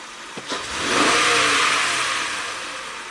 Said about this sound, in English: Let's do 1 snap throttle.